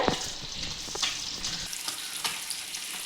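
Fish curry bubbling in a pot: a steady, close bubbling sizzle with soft pops and crackles, continuous throughout with no talking.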